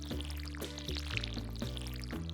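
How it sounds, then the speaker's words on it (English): Watering can pouring onto crops in the farming game Stardew Valley, a game sound effect of water streaming and splashing in repeated short bursts about every half second, steady and fairly loud over a low backing drone. "let's finish watering these little crops here"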